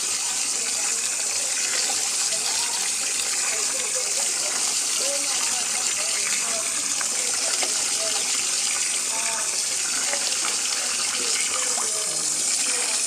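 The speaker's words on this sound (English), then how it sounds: "we are washing our rice outside" Water gushes and splashes steadily outdoors as rice is washed, a close, continuous running-water sound with faint voices underneath.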